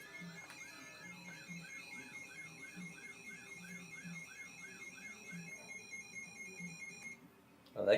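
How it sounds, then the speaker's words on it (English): An iPhone alarm sound plays faintly and repeats in a steady looping pattern of chirping electronic tones, with a low background hum and a muffled burst at the end. "He's using an iPhone alarm sound."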